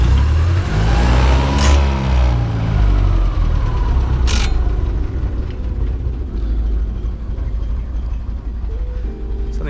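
A cold vintage Fiat 501 engine runs loud and close, with a steady mechanical drone and a brief rev that rises and falls early on.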